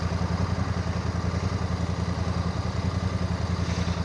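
A motorcycle with a stock exhaust can idles steadily nearby, a low rhythmic burble with a throaty, even exhaust note and no talking.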